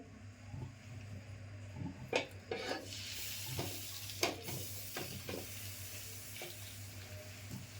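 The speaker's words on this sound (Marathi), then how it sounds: "आता मी थालीपीठ टाकून घेते." Thalipeeth flatbread made from sprouted moong and bhajani flour fries in ghee on a pan, giving a quiet, steady sizzle broken by soft scraping and clinking as it is moved, with no voices.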